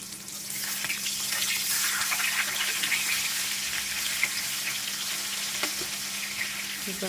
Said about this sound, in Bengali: তেল গরম হয়ে গেলে এবার মাছগুলো একে একে সবগুলো দিয়ে দিচ্ছি